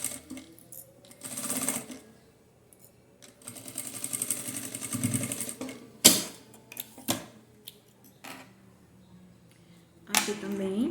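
Sewing machine stitching a safety seam on the lining of a fabric phone holder, running in short bursts of rapid mechanical whirring separated by pauses, with a few sharp clicks and handling knocks.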